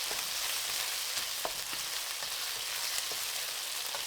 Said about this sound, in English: Then briefly stir.